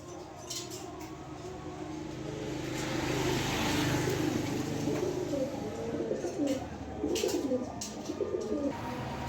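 A male racing pigeon coos in soft, low repeated calls up close, while a vehicle passes and swells in the background.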